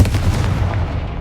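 A Confringo blasting spell bursts in Hogwarts Legacy, a dense, loud low rumbling boom sustained throughout and slowly fading.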